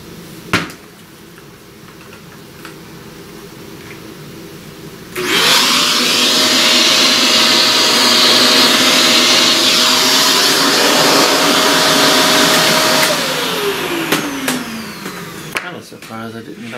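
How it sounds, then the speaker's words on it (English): A vacuum cleaner switches on and runs loud and steady for about eight seconds while sucking up debris from a pastel drawing surface, its motor pitch holding then dropping as it winds down, with faint background noise before and after. "let's vacuum actually a fair amount of this stuff."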